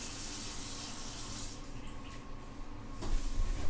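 Running tap water fills a sink while a makeup brush is rinsed for Halloween skeleton face paint, a steady close splashing wash that eases off midway, then returns with a louder swish near the end, with no talking.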